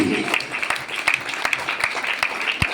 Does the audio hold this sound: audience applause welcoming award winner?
yes